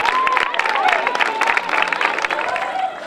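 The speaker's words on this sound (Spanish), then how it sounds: "vamos a dedicar un aplauso grande a todas las mujeres del mundo" A crowd applauds loudly and steadily for all the women of the world at an 8M event, with dense, continuous clapping and a thin whistle-like tone drifting over it throughout.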